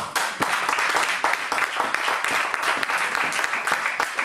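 A church congregation at a French-language sermon claps together in dense, lively applause that stays loud and even from start to finish.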